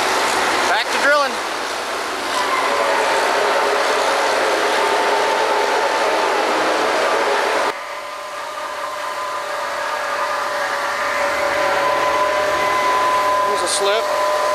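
A drilling rig grinds and roars continuously, close and loud, with a steady mechanical drone that drops in level about halfway through; a voice briefly appears.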